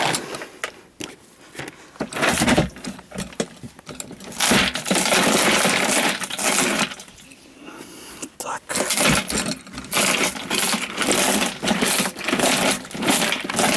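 Nuts ground into a carp bait mix during spring carp fishing: loud, harsh grinding bursts that start and stop irregularly, with short pauses between, and a voice speaks at times.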